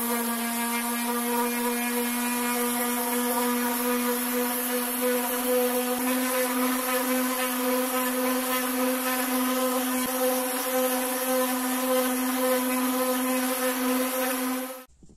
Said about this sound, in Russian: И теперь еще при помощи орбиталочки пройдусь немножко подшлифую